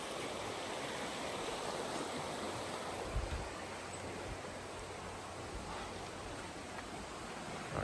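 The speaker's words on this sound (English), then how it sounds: "I love walking across this bridge, going across the water right here." Stream water rushing steadily under a bridge on a Southern California nature walk, a constant broadband wash with no talk.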